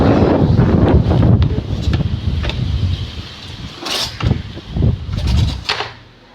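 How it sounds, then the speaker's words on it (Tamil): Strong wind gusts buffet the microphone in uneven surges over a rushing stormy wash, easing off and fading near the end. "நல்ல மழை, காற்று சரியான காற்று."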